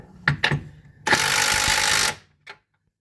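Bolts are tightened on the front leaf spring of a C4 Corvette: a few quick clanks, then a loud, continuous one-second burst from a power tool, and a final short click, all close by.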